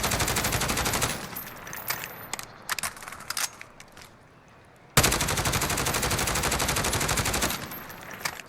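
A SIG SG 550 rifle in Call of Duty Modern Warfare fires two long, loud automatic bursts, one opening the clip and one closing it, with a few scattered shots and a near-quiet gap between them.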